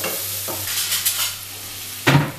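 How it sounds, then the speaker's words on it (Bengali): Kashmiri chilli powder and spices fry in a pan, a soft close sizzle broken by a few spatula scrapes and stirs, the last one louder, with no talk. "এটাকে আমি ভালো করে একটু ভাজা ভাজা মতো করে নেব।"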